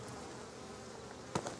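Honey bees buzz at a beehive, a steady dense drone with a brief louder close pass near the end.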